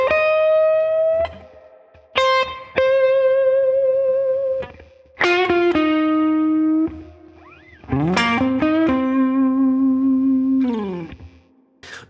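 Overdriven electric guitar plays a slow blues lick in C with sustained, bent notes and ringing, spaced phrases, loud and alone.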